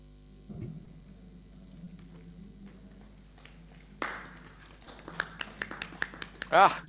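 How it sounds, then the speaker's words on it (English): Applause from an audience in a workshop room on energy storage development breaks out after a talk, a scattered burst of claps that grows denser and louder after a quiet stretch. "It's nice to hear clapping in the room even."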